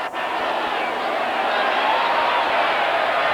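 Constant roar of a large stadium crowd at a 1994 Colorado State Rams college football game, a broad, steady wash of noise with no clear individual voices.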